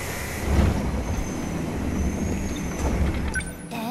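Train arriving in the game 13 Sentinels: Aegis Rim, a steady rumbling roll with a faint high whine and a brief hiss near the end, heard alone.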